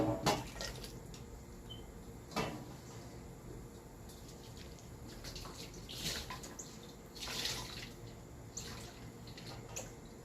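Water poured from one container into another, with uneven splashing and trickling bursts over about ten seconds, close by and moderately quiet, with occasional small clinks.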